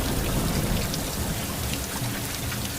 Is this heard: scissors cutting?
no